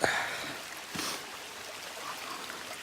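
Water trickles and flows steadily along a hiking trail that has turned into a shallow creek in Red River Gorge, a soft continuous babble with a couple of brief splashes from footsteps near the start.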